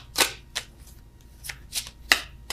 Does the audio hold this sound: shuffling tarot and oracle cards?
yes